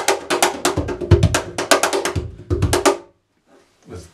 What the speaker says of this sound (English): If you had the slap corner version without any snares, it sounds like this